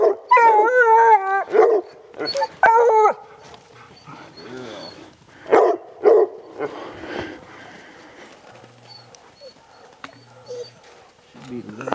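Hunting dogs on a bobcat trail in the outdoors, loud bursts of barking and drawn-out howls in the first seconds, then fainter intermittent baying and distant calls with quiet gaps.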